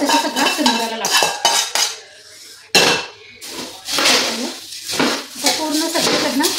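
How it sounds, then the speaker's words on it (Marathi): Spiced puffed rice (bhadang) tossed with a metal spatula in a hot kadhai gives close, loud scraping and clattering strokes in quick bursts, with a short pause midway before the stirring resumes. "पूर्ण सगळीकडनं गरम आहे पण उलाटनं हलवायचं"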